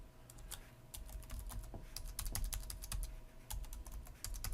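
A login name is typed on a computer keyboard in a quick, uneven run of crisp key clicks, close and fairly quiet, with brief pauses between bursts.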